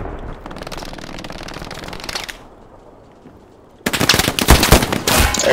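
Machine-gun fire in the Omaha Warfare video game: a steady rattle of shots, then a short lull, then louder, dense bursts of gunfire close by, with no talking.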